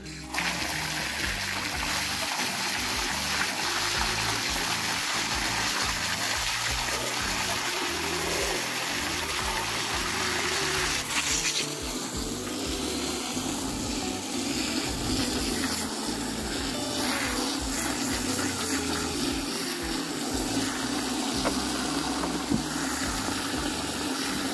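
Water runs and gushes steadily from a hose or tap while an animals' water container on a farmstead is cleaned out, a continuous splashing stream heard up close with no talk.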